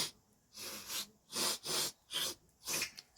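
Snuff sniffed sharply up the nose from a fingertip, a close series of five short, forceful breathy inhalations in quick succession with brief pauses between, no talking.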